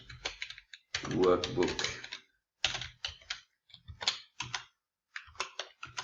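Code being typed on a computer keyboard in Office Scripts for Excel on the web: quick irregular clusters of light key clicks in short bursts separated by pauses, close up, alternating with a man explaining in between.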